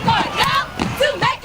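Crowd cheering and yelling at Philip O. Berry Academy of Technology's first ever home high school football game, in Charlotte, North Carolina; a loud, continuous mass of voices rising and falling over about a second and a half.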